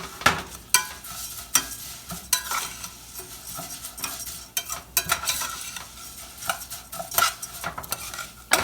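Fideo noodles browning in hot oil in a pan, a steady close sizzle with frequent scraping stir strokes of a utensil against the pan, no voices.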